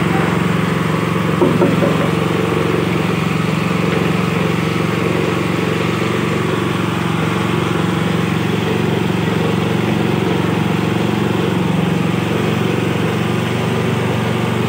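Small engine of a coconut-grating machine in a coconut milk shop runs at a steady drone, loud and constant, with no change in pitch.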